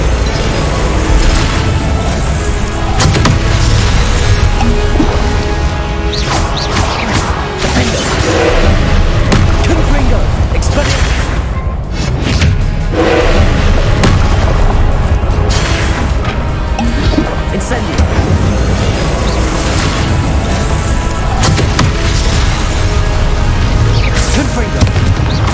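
A magic duel in Hogwarts Legacy, with spell blasts, crashes and booming explosions bursting one after another at loud, close range, mixed with whooshes and shouted voices throughout.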